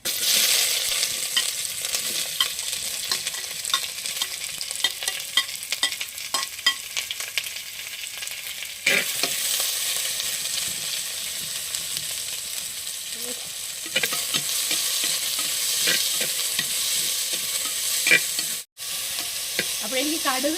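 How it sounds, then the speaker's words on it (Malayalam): Onions sizzle and crackle in hot coconut oil with popped mustard seeds, a constant frying hiss punctuated by stirring scrapes, steady throughout with no talking. "അപ്പോൾ സവാള ഇട്ട് കൊടുക്കട്ടെ"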